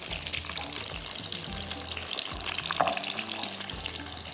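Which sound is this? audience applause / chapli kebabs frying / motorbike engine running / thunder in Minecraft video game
chapli kebabs frying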